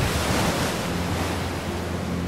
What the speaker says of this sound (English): A lot of power behind those waves,